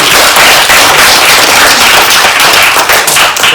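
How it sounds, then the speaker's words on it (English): Closing applause from listeners at a live lecture on place names: loud, close clapping with crisp individual hand strikes standing out in a dense, steady patter, no voices heard. "can we give another round of applause?"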